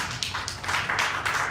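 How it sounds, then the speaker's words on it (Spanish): A church congregation applauds, giving a steady patter of many hands clapping at moderate volume for a short stretch, with no voices over it. "Denle un aplauso fuerte al Señor."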